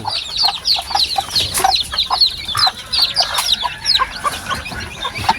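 Black chicks and hens clucking together in a coop, with a steady chorus of high, busy chick peeps over lower hen clucks, close and continuous.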